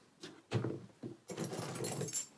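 A big set of keys dropped into a Bottega Veneta Brick Cassette leather bag, producing a few muffled clinks and soft rustling jangles close by, quiet and without talk.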